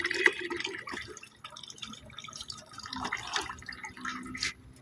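Water runs from a tap, splashing and dripping into a basin or container in uneven spurts and trickles, fairly faint and close, with small clatters mixed in.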